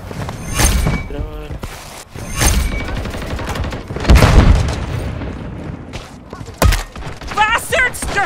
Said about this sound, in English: You're shooting at me!